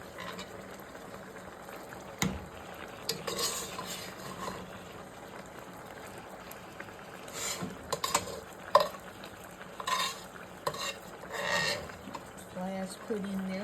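Mexican rice being stirred in a pot, soft scraping and clinking of a spoon against the pan with faint bubbling, intermittent and fairly quiet.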